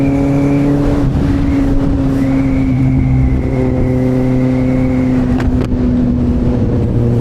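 A loud engine running steadily up close, holding a fairly even drone with slight shifts in pitch, like a motorcycle idling or cruising.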